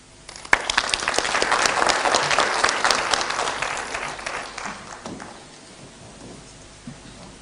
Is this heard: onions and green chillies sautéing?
no